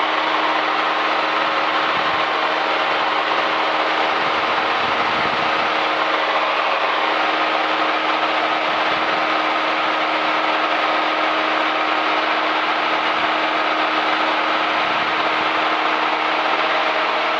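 Constant droning hum of a light airplane's engine during a cruise climb, heard loud and steady from inside the cockpit, with a sustained tonal buzz and no pauses.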